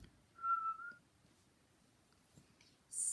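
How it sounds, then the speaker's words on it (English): A person whistles a single short steady note, quiet and close, followed by near silence and a brief high whistle at the end. "You can whistle like this."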